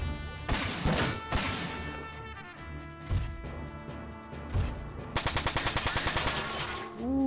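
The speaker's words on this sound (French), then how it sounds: "Contre-attaque avec la mitraillette." A machine gun counter-attack in the PS2 game Front Mission 4, heavy bursts and crashing impacts mixed with game music, ending in a rapid rhythmic string of loud shots.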